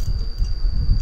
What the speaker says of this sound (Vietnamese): nó tạo tiếng kêu cho máy khi chúng ta để lô lỏng, nó sẽ kéo nó kêu như này